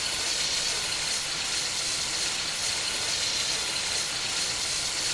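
Union Pacific triple-cylinder steam locomotive, a huge rigid-frame engine in Train Simulator Classic, giving a continuous broad steam hiss and rolling rail noise with no distinct exhaust beats.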